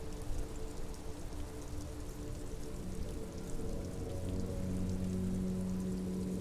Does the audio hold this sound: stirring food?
no